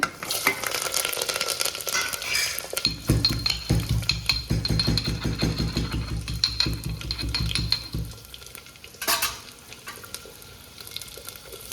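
Onion, garlic, red chillies and curry leaves fry in a pan, with a loud crackling sizzle and spoon stirring that carry a rhythmic scraping burst mid-way, then fade to quieter frying and a few clinks.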